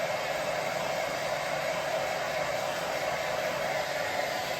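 A hair dryer blows on wet paint with a constant close whooshing hiss that holds steady and unbroken, with no voices.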